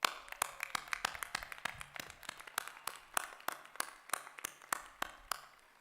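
Sparse clapping at a spring commencement ceremony for graduates, individual claps sounding in an irregular patter rather than a dense roar, fairly soft and set back in the room.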